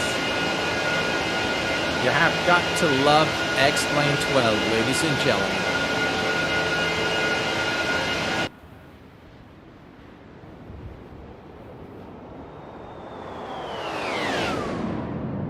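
Engines of an Airbus A330-300 in the X-Plane 12 flight simulator give a steady airliner drone under a voice, then fade to a quieter hum with a rising then falling whoosh near the end.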